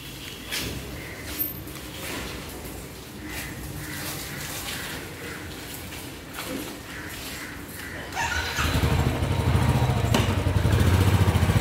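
A motorbike starts up and pulls away near the end, its engine loud and close after a quieter stretch of street ambience with faint voices.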